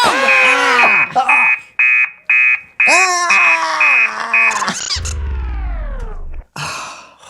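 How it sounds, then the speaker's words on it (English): A robot alarm clock blares a loud wake-up alarm: shrill repeated beeps pulse over warbling synthetic tones, then a drawn-out descending groan-like sound follows, all close and very loud. "Would you like to hear my alarm? Yes, and make it loud."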